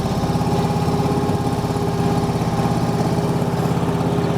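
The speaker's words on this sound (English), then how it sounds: "as you can see, the further I go, the faster my agitator shaft is rotating" A SealMaster self-propelled sealcoat squeegee machine runs with its agitator shaft rotating, giving a steady, close, pulsing engine drone with a rhythmic low throb and no voices.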